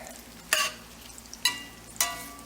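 Bacon fries in a Red Mountain Series number 8 cast iron pan under a low, steady sizzle, broken by three sharp bursts of spattering crackle, near and moderately loud.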